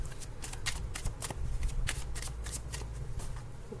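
A deck of chakra oracle cards is shuffled by hand close by, giving a continuous papery riffling with quick fluttering bursts over a low background hum.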